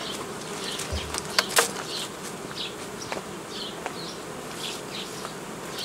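Honeybees buzz steadily over a capped-brood hive frame in July, a close, continuous hum of many insects with a few brief handling knocks and rustles.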